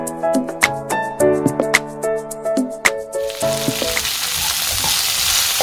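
Onions sauté in a pan, a steady loud sizzle that builds and fills the second half, with no talking.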